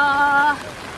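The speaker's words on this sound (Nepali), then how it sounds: "it's raining heavily" Heavy rain pours down outdoors at a riverside, a steady broadband wash that carries on alone, after a brief tonal sound in the first half.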